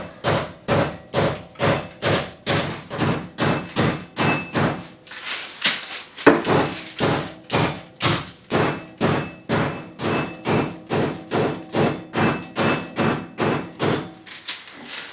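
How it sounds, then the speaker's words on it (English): Cold butter between two sheets of greaseproof paper is bashed flat with a rolling pin for shortcrust pastry, giving a steady run of loud, even thumps, roughly two a second, with a brief pause midway and no talking. "I don't want you listening to thump, thump, thump when I bash that out of this."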